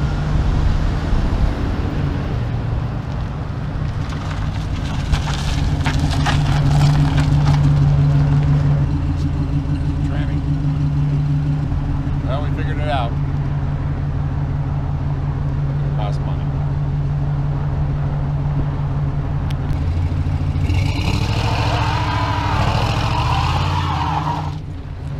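A 1967 Chevrolet C10 pickup truck drives by, its engine a steady low rumble throughout that swells into a louder broadband rush near the end as it passes close; faint voices can be heard underneath.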